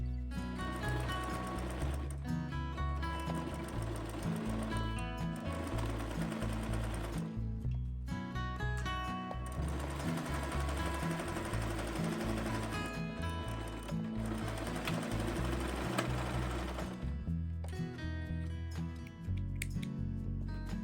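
A sewing machine runs in long rapid bursts stitching a winter shirt, a loud close mechanical chatter that stops briefly between runs, with no talking.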